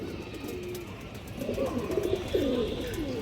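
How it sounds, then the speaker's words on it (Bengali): Soft, low cooing from a pigeon, a handsome female bird on a breeding farm for high flyers and colored pigeons, repeating in short rolling phrases through steady background noise, fairly close. "খুবই সুন্দর একটা কবুতর"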